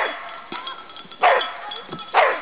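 A dog barks during agility training, three sharp barks spaced about a second apart over quieter yips and whimpers, close and moderately loud.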